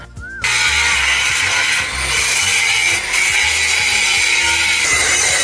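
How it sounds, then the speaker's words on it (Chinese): An angle grinder smooths weld beads on a steel suspension bracket for a truck leaf-spring conversion, a loud continuous high whine with grinding rasp close up, briefly dipping as pressure shifts. "为了表面美观整洁干净，师傅还需要对焊巴进行打磨光滑。"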